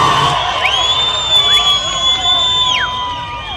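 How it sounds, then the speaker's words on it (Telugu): A crowd at a political road show cheers loudly, with shouts and long rising and falling whistles carrying over a continuous roar of voices. "గట్టిగా చప్పట్లు కొట్టండి."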